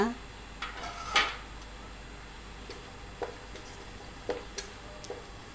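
A metal lid clanks onto a pot of simmering snake gourd and lentil kootu on a low-flame stove, with one loud clatter followed by a few lighter taps and clicks of kitchen utensils.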